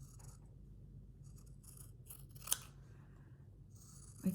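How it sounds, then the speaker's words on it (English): Scissors trim the white edge off a postcard in a quiet room: faint, with one sharp snip near the middle and another right at the end. "I'm going to cut this white edge off"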